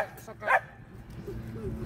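A puppy gives a sharp, high yip and then a few softer whimpering sounds, close by, while people talk nearby.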